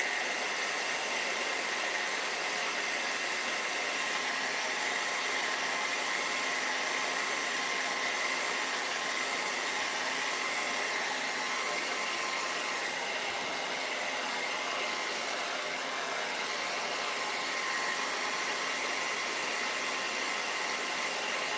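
A hair dryer blows steadily to dry splattered acrylic paint on a watermelon door hanger, a constant loud breathy roar held for the whole stretch with no breaks or voices.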